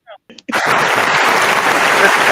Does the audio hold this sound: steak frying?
no